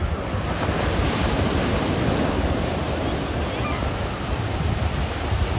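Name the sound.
ocean waves breaking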